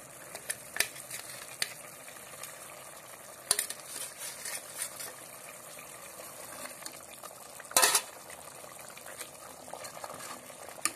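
Crisp fried fish goes into a simmering fish curry, with faint, steady sizzling and bubbling and occasional louder scraping stirs. Sharp clatters land near the start and close to the end.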